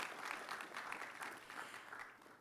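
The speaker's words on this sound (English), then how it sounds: "Please give him a round of applause." Steady clapping from an audience at a formal government event on funding for women living with disability, broad and continuous but fairly faint, with no voices over it.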